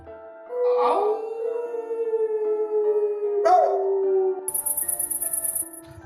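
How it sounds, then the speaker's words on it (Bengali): A dog howls in long drawn-out wails at night, rising then sliding down, with a second shorter howl and faint chirping insects joining near the end. "আর দূর থেকে কুকুরের কান্নার আওয়াজ"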